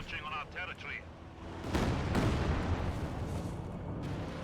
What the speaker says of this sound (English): Katyusha fire here